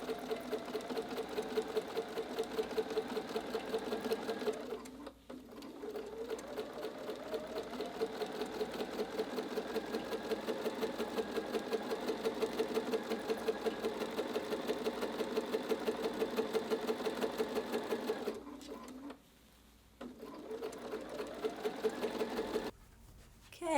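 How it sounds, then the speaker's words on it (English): Sewing machine topstitching a large jelly roll tote bag hums in long, even runs with a rapid rhythmic needle chatter, briefly stopping around five seconds and again near twenty seconds before resuming. "We'll stitch down that final lane that does not have any beautiful metallic thread"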